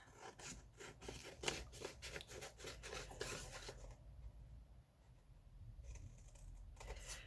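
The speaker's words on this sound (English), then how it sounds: "grab my long scissors and I'll cut this." Long scissors snip through paper in quick repeated crisp cuts, followed by a quieter pause and then a few more soft rustling snips.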